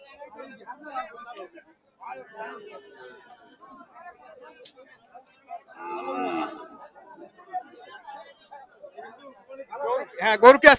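Cattle at a livestock market on a scorching hot day, with a loud moo rising near the end above people chatting and bargaining throughout.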